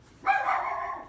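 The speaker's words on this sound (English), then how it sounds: "we'll see how, if she stops barking" A female dog gives a single loud, drawn-out bark close by, sharp at the onset and tapering off over about a second, alone without other sounds.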